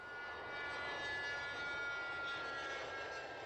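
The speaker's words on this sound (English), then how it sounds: "the Cessna Citation on course for Malta on the first leg of its epic journey" A Cessna Citation business jet cruises in flight, heard as a steady, loud engine roar with a faint high whine running through it and no voices.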